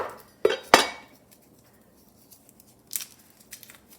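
Garlic cloves peeled by hand in a kitchen: two sharp crackling snaps up close, then quieter papery clicks and rustles spread over a few seconds.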